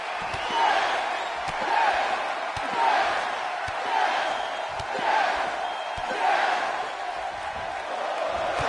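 A sold-out wrestling arena crowd in the WWE 2K19 video game roars in rolling waves of cheering, swelling and fading roughly every second, with occasional sharp slams cutting through the steady crowd noise.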